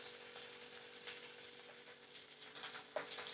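Chopped onions, four medium ones, fry in a pan for a chicken and potato curry, giving a steady, soft sizzle with faint stirring scrapes and a small clink near the end.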